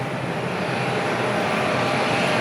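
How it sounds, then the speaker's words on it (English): A Virgin Atlantic Airbus A330neo arriving from London Heathrow and landing in Atlanta produces a loud, continuous broadband jet roar that holds steady throughout, with no speech. "Hey, that's an A330neo."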